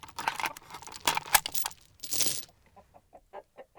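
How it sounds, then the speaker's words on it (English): Chickens in The Magical Music Box video game cluck in a short run of soft, evenly spaced clucks after a burst of busier, crinkly game sounds, close and clear with no talking. "They don't sound like ordinary chickens."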